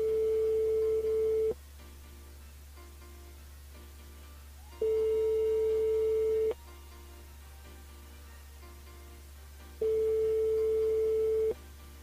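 Telephone call placed live on a radio show, heard as repeated steady electronic tones: three long beeps at regular intervals with quieter gaps between, alone with no talk.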